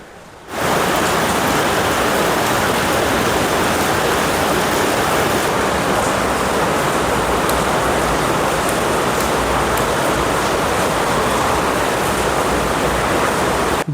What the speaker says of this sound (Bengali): জলটা আসছে কোথা দিয়ে দেখুন, পুরো একদম ভেতর দিয়ে।